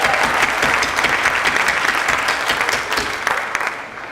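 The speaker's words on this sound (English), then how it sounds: "Give yourself a round of applause" School district staff at a convocation break into loud, dense applause, a full room of clapping that stays strong and then thins slightly toward the end.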